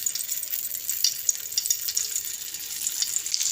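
Shami kebabs frying in three tablespoons of ghee on a flat tawa griddle give off a steady, close, bright sizzling hiss that holds evenly throughout, with no voices.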